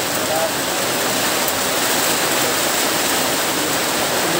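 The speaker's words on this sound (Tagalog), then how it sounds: "Ulan eh." Heavy rain falling hard, a dense, loud, continuous hiss and roar of downpour with no breaks, close and enveloping throughout.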